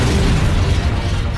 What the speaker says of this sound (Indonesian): nabrakannya dengan mobil yang dikendarai Po, sehingga mobil itu meledak bersama Po.